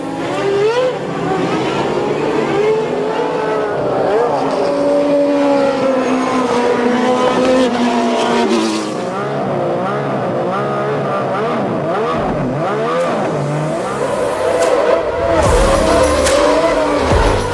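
Formula 1 cars launching at the start of the French Grand Prix, a dense, loud engine roar with rising and falling revs from several cars together, continuous throughout with a brief crowd-like swell near the end.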